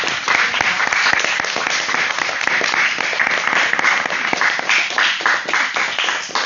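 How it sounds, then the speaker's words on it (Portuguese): Applause for a jiu-jitsu master at a gym session, a loud, dense burst of many hands clapping close by, sustained throughout with sharp individual claps standing out and tapering slightly near the end. "Uma salva de palmas aí, ó, para o nosso grande mestre aí"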